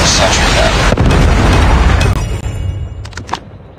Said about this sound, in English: Predator missiles have destroyed